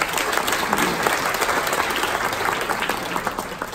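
An audience at an international insect symposium clapping to welcome a visiting speaker, a full, dense burst of applause that stays strong and then tapers slightly near the end.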